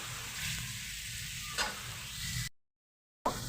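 Tomato and sugar sizzle while frying in a pan, a steady close crackling hiss with faint stirring scrapes, cut by a short silence before the sizzling resumes.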